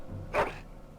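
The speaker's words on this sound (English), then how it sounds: "Happy bark." A single short, happy bark from a dog in the Dragon Age video game, a brief mid-level yip standing alone against quiet background.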